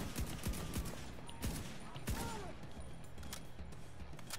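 Gunfire crackles through the shooter game The Division 2: sharp repeated shots and bursts come in quick succession at moderate distance, with a player's voice occasionally over it.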